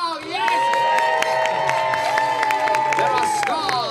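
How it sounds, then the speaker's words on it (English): A crowd at a theme park stage show at Disney's Hollywood Studios cheers and applauds loudly after a bow, with whoops and clapping over bright music and sustained tones. "the crowd goes wild"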